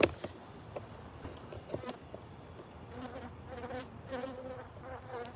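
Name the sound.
honeybees buzzing during beehive inspection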